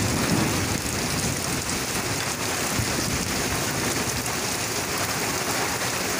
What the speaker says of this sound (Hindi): बहुत तूफ़ानी बारिश हो रही है, ओले पड़ रहे हैं, आसमानी बिजली चमक रही है